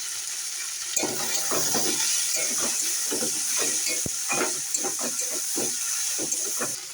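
Steady, loud sizzling of food frying in hot oil with salt, turmeric and cumin powder, with repeated stirring scrapes and a sharp clink near the middle.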